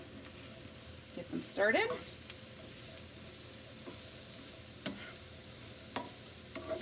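Peppers sizzle in oil in a pan for a lunch frittata or quiche, with a steady low frying hiss and a brief burst of stirring clatter; a voice speaks briefly.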